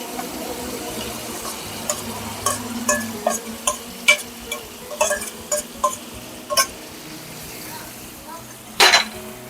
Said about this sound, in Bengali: এবার আমি খুব ভালো করে নাড়াচাড়া দেবো।